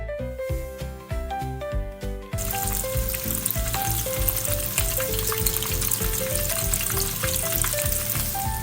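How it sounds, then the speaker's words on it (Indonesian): Shrimp rolls deep-frying in hot oil until golden give a steady, dense crackling sizzle that starts abruptly a couple of seconds in and continues loudly under background music. "goreng udang sampai keemasan dan renyah"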